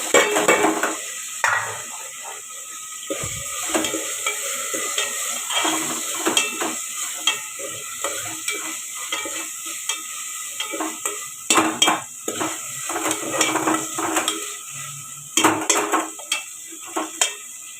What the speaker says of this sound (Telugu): చూడండి, ఉల్లిపాయ పచ్చిమిరకాయ వేస్తున్నాను.